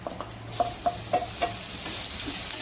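Green chili paste being mixed into a simmering Vidarbha-style vegetable curry (patwadi rassa) with curry leaves and coriander, giving a steady sizzle with several soft spoon scrapes against the pan, close and without talk.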